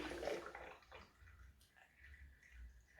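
Water sloshes and swirls inside a vigorously shaken bottle spun into a vortex, a faint gurgling churn with soft watery splashes up close.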